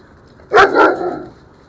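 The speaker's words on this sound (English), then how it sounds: "What's that, a German Shepherd?" A German Shepherd barks twice in quick succession, loud and close, with a short tail of yelping afterward and no talk over it.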